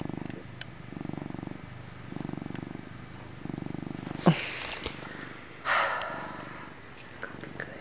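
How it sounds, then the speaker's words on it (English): A cat purrs in a dark spot, a low steady rumble in regular pulses, faint and close, with a couple of brief breathy snorts or rustles partway through. "You can hear him purring."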